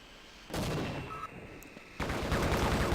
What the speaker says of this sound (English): I'm gonna go chuck another grenade at their turrets.